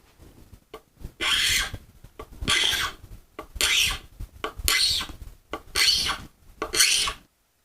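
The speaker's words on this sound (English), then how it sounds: "I'm going to be using our FWZ hand scraper" FWZ hand scraper drawn repeatedly across a plastic pipe surface, six loud rasping strokes in a steady rhythm, close and alone with short pauses between them.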